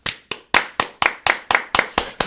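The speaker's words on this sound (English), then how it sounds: "And a clap for Jeremy." Podcast hosts clapping for a guest in a studio: about ten sharp, evenly spaced hand claps, close and clear, with no talking.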